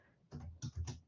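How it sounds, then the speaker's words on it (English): Three quick keystrokes on a computer keyboard, close and soft, clicking in an uneven rhythm in a quiet room. "typing the column headings"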